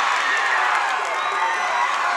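A high school volleyball crowd for St. Joseph's Notre Dame cheering and shouting in a gym, a loud steady roar of many voices throughout.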